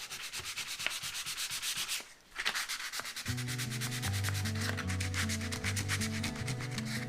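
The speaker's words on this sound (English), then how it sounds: "going with the grain because our orbital sander is curved" An orbital sander works across a wooden shaker-style door, a soft rubbing scrape with brief pauses that settles into a steadier buzzing drone with a tonal hum, fairly quiet.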